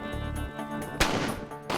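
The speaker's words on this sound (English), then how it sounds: "Once again, the bullet impacts the C4, but Nothing." A rifle round is fired at a block of C4 explosive in an outdoor test, producing a single sharp crack of impact against a steady background hum, with no blast following.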